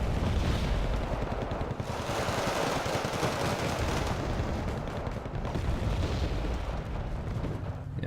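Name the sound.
mortar and gunfire in a video game battle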